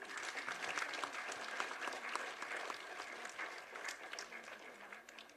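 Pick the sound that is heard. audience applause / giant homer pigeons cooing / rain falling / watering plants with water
audience applause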